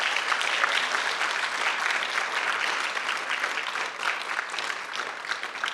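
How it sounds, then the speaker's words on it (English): At a county speech festival awards evening, the audience gives the student speakers a big, sustained round of applause. The clapping is steady and full-bodied from start to finish, with no talking over it. "I would like to do one more big round of applause for all of our student speakers."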